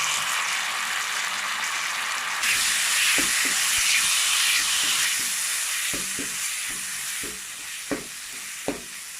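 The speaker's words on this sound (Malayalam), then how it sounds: "സോയാ സോസ് ഒഴിക്കണം." Soy sauce goes into a hot pan, which sends up a loud broad hiss of steam and sizzle that jumps in intensity partway through. Spoon taps and scrapes follow as the mixture is stirred, with no talking.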